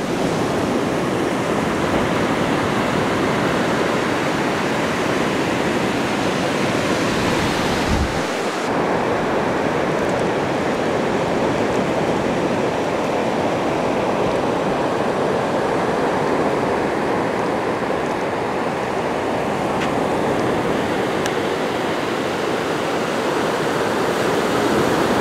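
Ocean surf on a beach where loggerhead sea turtle hatchlings are released, a constant loud wash of waves mixed with gusting wind noise and a brief sharp thump around the eight-second mark.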